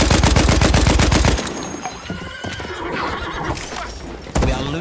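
A horse whinnies loudly in a video game battle, followed by hoofbeats and scattered battle noise, including a brief burst of gunfire near the end.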